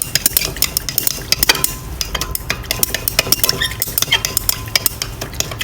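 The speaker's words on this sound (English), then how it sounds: "And then stir it up." Soap-making lye solution stirred in a container, with a steady run of close scraping and clinking strokes, loud and continuous with no talking.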